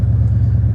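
Car engine on a rally road trip, a steady low cruising rumble, loud and close, with no voices.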